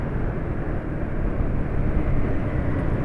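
A Honda automatic scooter's rough engine, a continuous low, gritty rumble close by with steady broadband noise throughout, no talking.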